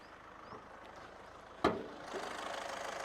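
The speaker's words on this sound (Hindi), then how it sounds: "ये जैसे कि आप देख रहे हैं, ये एक डीजल इंजन है, इसका इतना हिलना बिल्कुल नॉर्मल है।" A used car's diesel engine fires with a sudden sharp catch after a quiet moment, then settles into a steady, rough, moderately faint idle.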